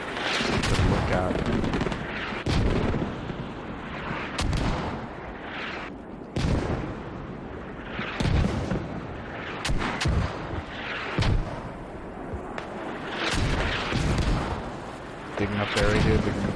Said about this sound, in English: Mortars again landing.